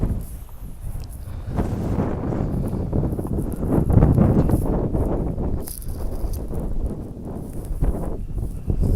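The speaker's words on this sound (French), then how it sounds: "Je crois qu'il y a un peu de vent" Gusty wind at a volcano summit near Albuquerque buffets the microphone with a low, uneven rumble and rustle, swelling and easing throughout.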